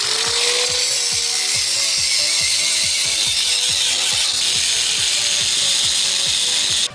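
A ratchet wrench clicks rapidly and steadily in repeated bursts while truck front brake parts are taken apart, the pawl ticking loud and close over constant workshop noise, with no talking.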